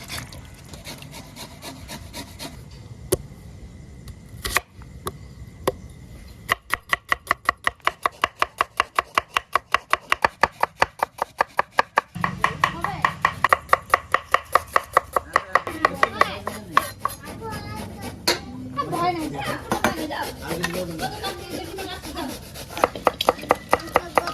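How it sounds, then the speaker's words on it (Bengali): Taro (kochu) being crushed and pounded by hand, a long run of rapid, steady rhythmic thuds and scraping strokes, close and fairly loud, with brief pauses between bursts. "এই কচুটাকে ক্রাশ করে নিছি সুন্দর করে"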